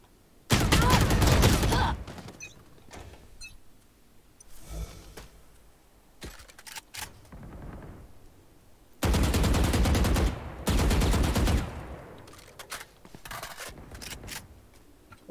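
Bursts of Vandal assault rifle fire in a shooter video game, loud dense volleys in several separate strings with short gaps and scattered single shots between.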